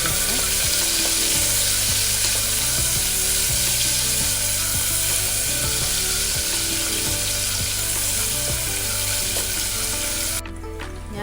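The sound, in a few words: onions frying in oil in pressure cooker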